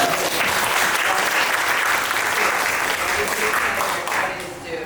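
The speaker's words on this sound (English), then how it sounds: "we just give Tasha a round of applause" Audience applause at a Juneteenth panel program, a dense steady wash of many hands clapping for nearly five seconds before easing slightly at the end.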